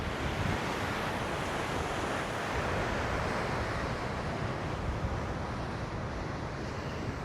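Sea waves break along the coast near Hikkaduwa, Sri Lanka, a steady, loud surf roar with wind rushing over it, continuous and without voices.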